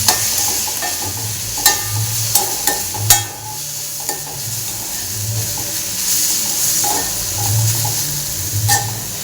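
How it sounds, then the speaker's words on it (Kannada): A spice mixture fries in a pan for a North Karnataka palya, with a continuous sizzle broken by several loud, sharp scrapes and knocks of stirring, clustered early and scattered later. "ಚೆನ್ನಾಗಿ ಫ್ರೈ ಆಗಲಿ."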